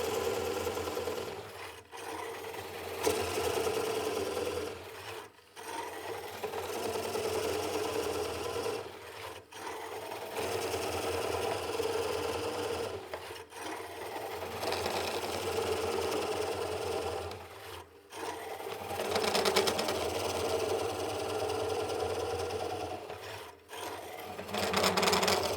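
A wood lathe spins a bowl blank while a Oneway Easy Core tool cuts a core from it, making a continuous harsh scraping rasp in long passes, with brief pauses every few seconds.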